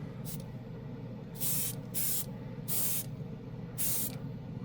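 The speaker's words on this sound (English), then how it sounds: "I do want to show you guys how if you spray it light, you get that gold tone" An aerosol can of chrome spray paint hisses in several short spray bursts, one very brief and then four longer ones, over a low, steady room hum.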